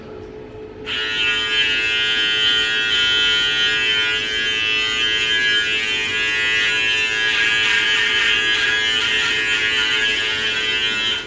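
An electric shaver buzzes continuously and close up during a shave, a steady high-pitched hum that starts abruptly and holds with slight wavering for about ten seconds, with no talking.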